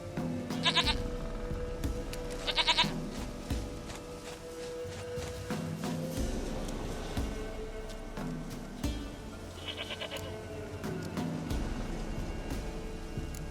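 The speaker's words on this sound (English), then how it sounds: "Goat of mine! Dearest, sweetest goat!" Goat bleats in The Witcher 3 video game, a few short wavering cries spaced across steady game ambience, fairly close, with no talk.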